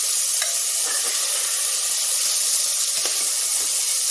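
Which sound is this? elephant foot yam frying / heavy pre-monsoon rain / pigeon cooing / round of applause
elephant foot yam frying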